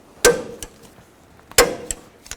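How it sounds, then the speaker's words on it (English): Torque wrench tightening brake caliper bolts on a 2000-2006 Chevy Tahoe: two sharp metallic clicks about a second apart, each followed by a fainter tap, close and alone. "Now I'm going to torque these bolts to 122 foot-pounds."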